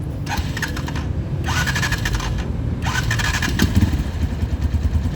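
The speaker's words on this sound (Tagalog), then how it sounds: "So ikot to guys, papakinggan yung andar niya." A KRY 200 motorcycle is cranked three times with whirring starter bursts, then its engine catches and settles into a steady, close-up running rumble.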